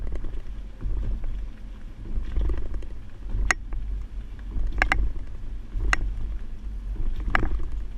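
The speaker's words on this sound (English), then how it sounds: "Now we're at the alternating speed bumps." A 2011 Cadillac Escalade carrying a Kuat NV 2.0 two-bike hitch rack rolls over alternating speed bumps, giving a steady low road rumble broken by several sharp clunks and rattles from the rack as each bump is crossed.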